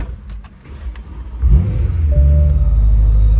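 A BMW M4 convertible pulls away and accelerates, its engine rising from a quiet idle into a loud, sustained rumble with a climbing rev tone, close by and with no talk.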